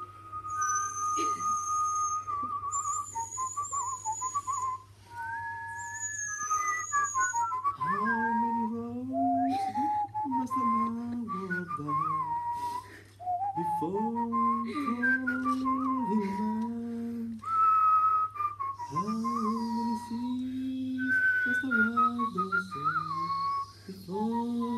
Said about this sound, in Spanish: vamos a hacer una coda silbada